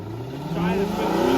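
A truck engine bogs down and then revs back up, a steady close drone rising in pitch and loudness over a second and a half.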